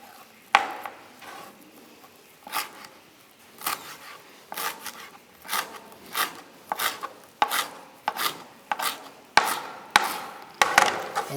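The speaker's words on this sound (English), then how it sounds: "we have our coriander, what we call dania. Shred it." Fresh coriander (dania) being shredded by hand with repeated, fairly close crisp rasping and tearing bursts at an irregular rhythm, with no talk.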